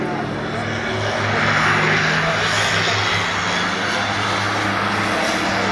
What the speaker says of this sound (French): Regardez l'atterrissage du Bronco